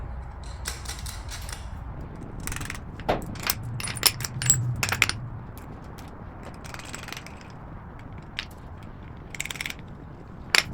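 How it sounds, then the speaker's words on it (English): During assembly of a KICK Cavalier 55-inch foosball table, washers and lock nuts are fitted onto bolts, making quiet, scattered metallic clicks and clinks with gaps between them. "hold the bolts in place, insert another washer, and then go ahead and attach your lock nut"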